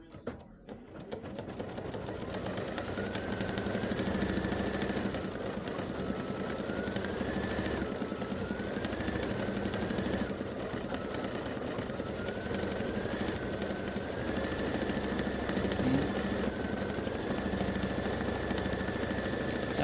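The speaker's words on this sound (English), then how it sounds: "I'm going to stitch all the text that says Happy Halloween" An embroidery machine stitches the words Happy Halloween for an in-the-hoop Boo display, running with a steady, loud, continuous mechanical whir and a repeating rhythmic needle pattern throughout, with no voices.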